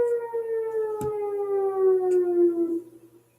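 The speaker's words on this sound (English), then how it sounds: "Glad I don't live here with that siren going off" A civil defense siren wails in one long, steady tone that slowly falls in pitch before fading away.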